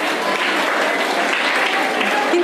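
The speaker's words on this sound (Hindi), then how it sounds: "वेरी गुड, उनके लिए तालियां बजा दो एक बार।" Steady, dense applause from a seated audience at a Hindi-language talk, many hands clapping evenly and fairly loudly with no pauses, close and continuous throughout.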